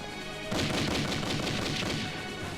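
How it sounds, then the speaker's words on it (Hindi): Sustained machine-gun fire from a Hindi war film, a dense, loud rattling burst that starts abruptly after a brief quiet lead-in and keeps hammering without pause to the end. "मशीन गन कमांड करो।"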